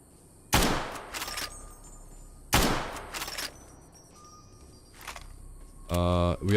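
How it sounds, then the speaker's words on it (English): Two sharp bursts of 9mm gunfire in a Fallout game, each a loud crack with a brief tail and a few quick follow-up shots, then fainter distant pops and a short harsh buzzing tone at the end. "It's a 9mm shooting at me."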